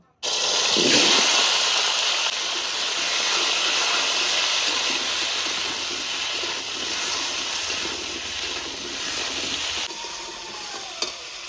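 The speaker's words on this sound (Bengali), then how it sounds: "এই মাছ ভাজার তেলে আলুগুলো ভেজে নেব" Potatoes fry in oil left over from frying fish, giving a loud, continuous sizzle that holds steady for several seconds, with faint stirring and a short knock near the end.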